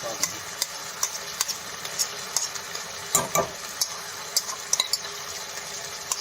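Chopped onions sizzle in oil over a high flame for Punjabi-style matar malai, a steady hiss broken by regular scrapes and clinks of a spoon against the pan.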